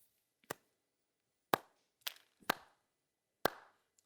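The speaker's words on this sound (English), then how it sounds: "Slow clap." A slow clap rings out as five separate, sharp handclaps, unevenly spaced with long pauses between them, close and isolated over near silence.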